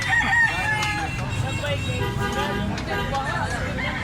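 Roosters crow repeatedly at an early-morning chicken market in Carbon, Cebu, where birds are set out for display. Their calls rise over a steady murmur of crowd chatter and people talking nearby.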